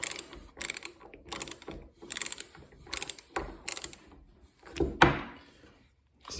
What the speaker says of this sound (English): this isn't necessarily what you'd be using a screwdriver for, driving screws into wood, but if you needed to, you could